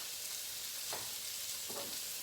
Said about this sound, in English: those sliced onions that we had earlier are going into the hot pan. Get those sauteing.